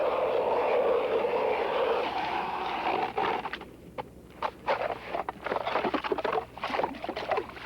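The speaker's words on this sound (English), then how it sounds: "Took his ice auger and made himself a hole." A power ice auger bores a hole through lake ice in winter, droning loudly at first, then dropping into choppy bursts of grinding and scraping as the bit works through.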